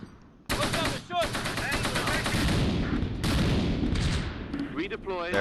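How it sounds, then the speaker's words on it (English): Mortar shells landing amid heavy gunfire in the Close Combat WWII strategy game, a dense barrage of rapid bursts and booms that starts abruptly and keeps rolling, with faint voices briefly mixed in. "Mortars are falling."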